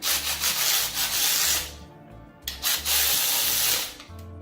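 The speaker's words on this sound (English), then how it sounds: "Let me snug these up right quick here." A Milwaukee ratchet snugs up bolts on a 1981 Ford F150 Bullnose Flareside. Close, rasping clicks come in several quick bursts with short pauses between them, and no one talks.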